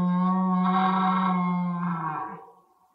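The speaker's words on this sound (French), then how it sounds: "C'est ce gros chant prononcé par le cerf pendant la période des amours." A red deer stag bellows during the autumn rut: one deep, loud, drawn-out roaring call with a rough, rich tone, held for about two seconds and then fading away, with no other sound around it.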